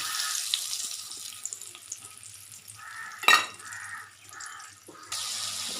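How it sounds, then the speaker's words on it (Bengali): Potatoes frying in a pan with a turmeric, cumin and chili spice paste, a soft steady sizzle with a few sharp spattering bursts, heard alone at close range. "এর মধ্যে আলুগুলো দিয়ে কষবো আলুগুলো কিন্তু ভেজে নিই"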